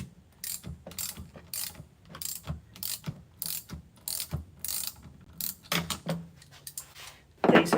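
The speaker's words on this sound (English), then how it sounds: "I'll undo a fuel bowl bolt." Ratchet wrench loosening a bolt on a carburettor fuel bowl, a series of rapid clicking pawl strokes in short repeated bursts, close and clear, ending with a louder clunk.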